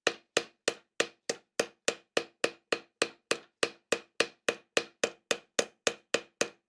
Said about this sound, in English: use my planishing face of my hammer, my flat face, to clean up those marks